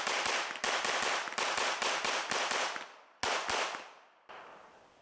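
A rapid string of loud, sharp pistol shots from an HK P30L fitted with a compensator, about a dozen in quick succession with a brief gap before the last few, each ringing out with echo and no talking.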